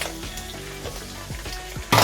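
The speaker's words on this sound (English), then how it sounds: "now I'm gonna look on my meat that I'm frying" Pork sizzles in a hot pot with a soft crackling hiss, punctuated by a few knocks of a utensil and a louder burst of sizzling at the end.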